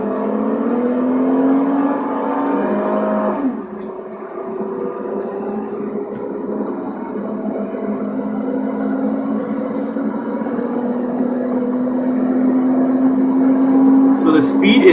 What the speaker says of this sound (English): It's titled Chevy Impala Top Speed 2009. So I'll just play it. So it's just accelerating right now.